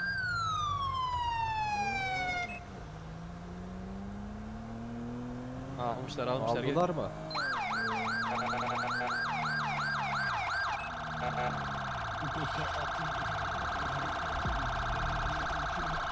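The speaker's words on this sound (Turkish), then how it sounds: "git arkadan siren sesi geliyor" A police siren in the GTA 5 video game sweeps through a falling wail, then a rapid yelping warble, sustained and fairly loud behind a voice talking in the car.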